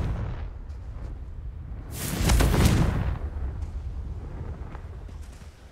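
The Confringo explosive spell is cast in Hogwarts Legacy, giving a single loud, booming blast that swells and then slowly fades over a low rumbling game background.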